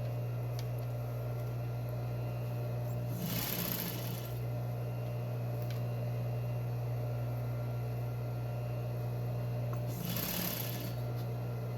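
A sewing machine chain-pieces quilt seams in two short bursts of stitching several seconds apart, heard over a constant low electrical hum with no voices.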